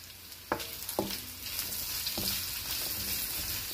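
Chopped onion and garlic hit a hot pan with a few sharp clatters, then settle into a steady, close sizzle with occasional stirring knocks while frying for pinakbet.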